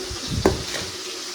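Snakehead fish frying in a pan sizzles steadily at close range, with a short clatter of stirring or utensil contact partway through.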